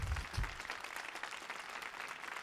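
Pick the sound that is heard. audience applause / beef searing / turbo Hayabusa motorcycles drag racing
audience applause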